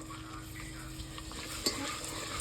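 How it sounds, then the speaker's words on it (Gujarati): Onion and tomato cook in a pan in a village kitchen, with a soft, continuous frying hiss and faint stirring scrapes. The sound is fairly quiet and steady, and no voices are heard. "ડુંગળી પાકી ગઈ છે હવે નાખવાના છે ટમેટા નાખી દો તો પાકી જાય"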